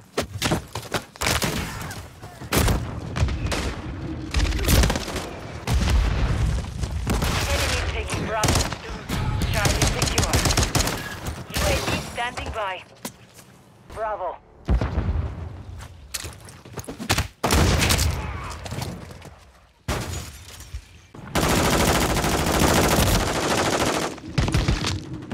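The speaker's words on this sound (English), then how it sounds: "Precision airstrike," A precision airstrike in the Modern Warfare 3 video game, heavy rapid gunfire and thumping impacts running almost continuously, loud and dense, with a brief lull partway through.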